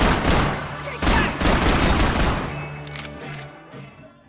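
Gunfire in Max Payne 3, a dense burst of loud shots that rolls on for a few seconds before tapering off, with a voice talking underneath.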